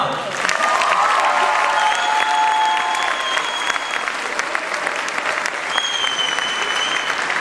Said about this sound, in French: je pense qu'on peut applaudir très chaleureusement la troupe des T1